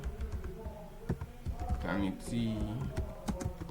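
Fingers type on a computer keyboard in a brief, irregular run of soft clicks, with a voice talking over the keystrokes.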